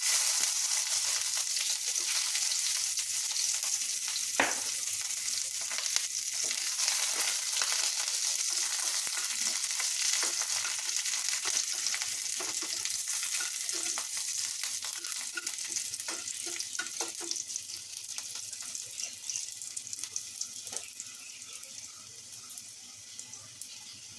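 Onions frying in a pan for Bengali tomato bharta, a steady bright sizzle with occasional stirring clicks, fading slightly toward the end, no voices.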